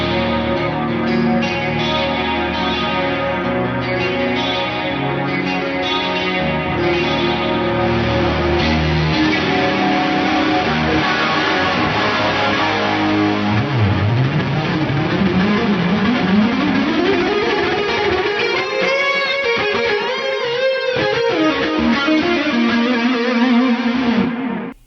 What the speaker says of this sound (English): I can really clean this up and get some sweet jangly single coil tones.